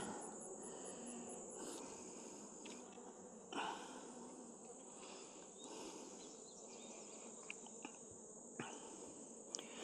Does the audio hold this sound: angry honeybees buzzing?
yes